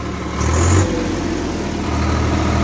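A Swraj 855 FE tractor engine runs with a steady low rumble throughout, briefly surging louder near the start before settling back to an even, close idle.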